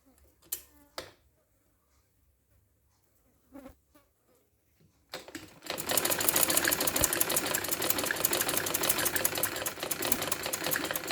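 A sewing machine stitches a kameez design for an Eid dress: a few soft clicks and handling noises, then a loud, steady whirring buzz that runs without a break to the end.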